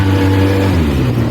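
A 2003 Polaris Sportsman 600 Twin ATV engine idling steadily with the choke off, a loud, close, continuous low rumble with no talk over it.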